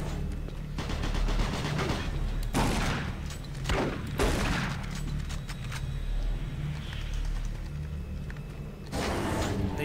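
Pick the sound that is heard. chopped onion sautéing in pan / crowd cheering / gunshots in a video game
gunshots in a video game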